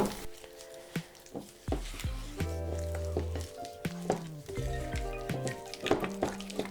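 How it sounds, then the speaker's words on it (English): Cream cheese with sugar and vanilla being mixed for a cake filling gives soft squelching, clicking stirs in an irregular rhythm, close and moderately loud, with tonal hum between strokes. "I have the cream cheese here with the sugar and the vanilla, and I'm just gonna mix it until it softens"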